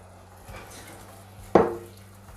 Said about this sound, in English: Then stir all of that around.